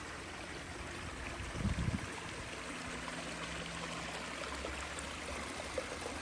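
Garden waterfall spilling into a koi pond, a steady broadband rush of flowing water that stays even throughout, with a brief louder splash partway through.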